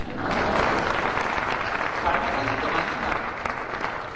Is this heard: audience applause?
yes